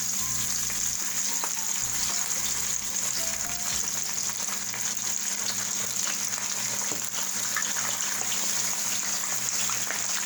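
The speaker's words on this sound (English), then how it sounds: "When you fry the fish, it's delicious." Fish frying in hot oil in a pot for escovitch fish, a steady close sizzle with bubbling throughout, a few low knocks early on.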